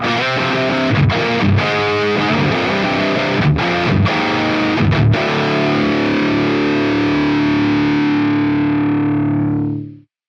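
A heavily distorted electric guitar through a Quad Cortex with doubler plays a chugging riff with sharp stops and palm-muted stabs, then lets a final chord ring out and fade.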